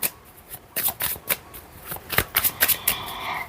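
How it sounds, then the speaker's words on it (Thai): A deck of tarot cards is shuffled by hand close up, with repeated crisp riffling bursts and papery flutters that come quicker and denser toward the end, with no talking. "มาดูกันต่อที่ไพ่อีกหนึ่งสำรับนะมาดูซิสำรับนี้จะบอกอะไรนะคะ"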